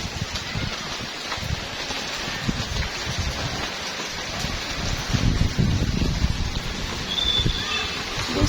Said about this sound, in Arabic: بصوا الجو، بصوا الشتا